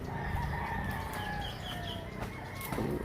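A chicken clucks and squawks nearby in a backyard over a constant background hum, giving a few short calls with no one speaking.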